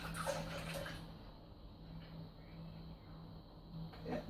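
Coconut milk, 300 milliliters, poured in a steady liquid stream that runs for about four seconds at a moderate level in a quiet room, with no talking.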